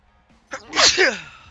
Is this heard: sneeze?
yes